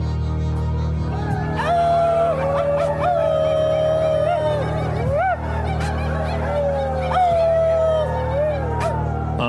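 Several people imitate coyote howls together, drawn-out wavering yips and howls that rise and fall in overlapping waves, loud and close for several seconds.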